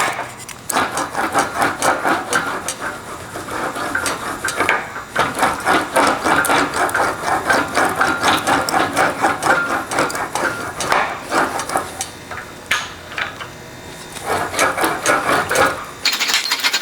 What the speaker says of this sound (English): Now let's run it through the English wheel.